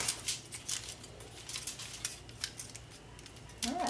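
Scissors cut through a piece of paper card with a series of quick, crisp snips close by, a faint rustle between cuts.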